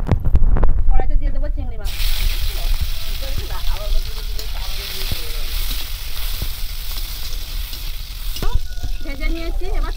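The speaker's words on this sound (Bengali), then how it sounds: "চিংড়ি মাছটা ভাজবো, তেলটা একটু গরম করে নিচ্ছি ভালো করে। কড়াইতে দিয়ে দেবো চিংড়ি মাছ।" Shrimp frying in hot oil in a kadai, a loud continuous sizzle and crackle that flares up near the start and fills the whole stretch.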